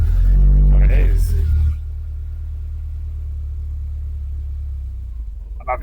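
A car engine converted from carburettor to individual throttle bodies revs loudly at first, then settles into a steady low idle rumble. A person talks briefly over the opening burst.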